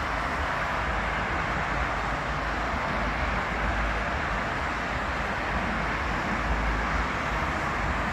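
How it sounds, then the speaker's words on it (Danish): Cars driving past on a road, a continuous low rumble of traffic noise that swells and fades steadily with no break, heard from the roadside. "bilerne vælter bare forbi nu. I kan jo høre dem"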